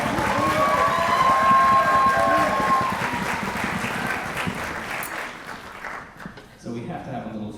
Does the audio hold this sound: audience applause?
yes